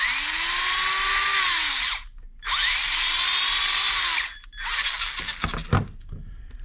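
A Latrax Teton RC truck's electric motor whines at reduced training-mode power, rising and falling in two bursts separated by a short pause, then clattering, rattling handling noises close by with no talking.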